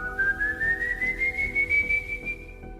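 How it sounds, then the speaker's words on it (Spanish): A long, clear human whistle, the signature call of the legendary wandering ghost, glides slowly upward in pitch over about three seconds. It sounds close and sustained, with a low hum underneath. "emitiendo un silbido característico"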